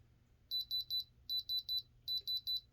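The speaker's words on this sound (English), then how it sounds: "And I got the diamond tester as well." A moissanite diamond tester beeping in three groups of four to five short, high, evenly spaced electronic beeps, clear and close over a quiet background.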